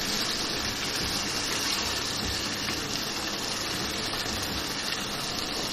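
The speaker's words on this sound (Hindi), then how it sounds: "पानी डाल दूँ, जल्दी से गल जाता है, इसलिए कम पानी डाल रही हूँ इसमें" Water pouring into a cooking pot of mutton and potatoes, a steady continuous gushing hiss at moderate volume with no pauses.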